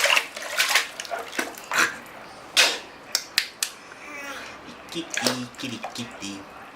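Water splashes and sloshes in a bucket as a baby is bathed, with irregular splashy bursts and creaks under a woman's soft speech.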